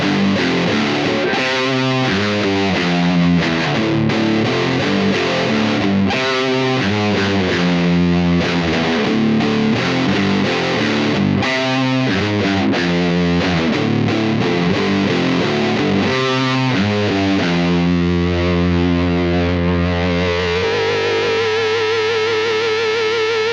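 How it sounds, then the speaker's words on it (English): Electric guitar played through a ProCo Rat distortion pedal with the gain cranked past three o'clock, a loud saturated tone of chugging riffs and ringing chords that ends on a long sustained note. "And really crank that distortion up high."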